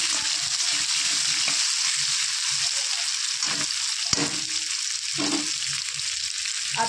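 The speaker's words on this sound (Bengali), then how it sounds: "একসাথে আলুর সাথে মশলাগুলো কষিয়ে নেবো" Potatoes frying in oil with whole garam masala and dried chillies for a snakehead fish curry, a loud steady sizzle broken by intermittent stirring scrapes, close up and without voices.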